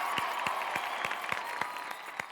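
An audience claps at a comedy show gathering, a steady wash of applause with regular sharper claps standing out, moderately close and even throughout.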